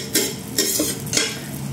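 Garlic sautéed in a pan, with a loud close sizzle broken by three sharper scraping strokes as it is stirred.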